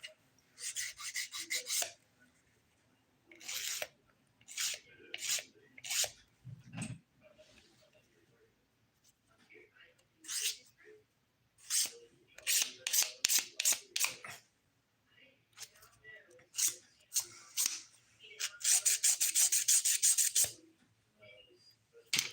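A nail file rasps against polygel nails in quick repeated strokes, grouped in short bursts with pauses, close and fairly crisp, with a bit of quiet talk in between.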